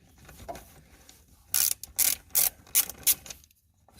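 A socket wrench ratchets on a 9/16-inch bolt at a golf cart battery's negative terminal, giving several loud, close bursts of rapid clicking separated by short pauses, with no voices.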